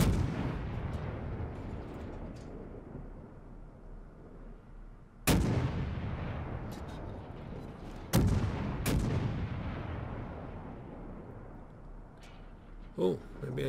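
Warship guns boom in the World of Warships video game, a few loud sharp blasts a few seconds apart over a steady rumbling engine and sea bed, with talk throughout.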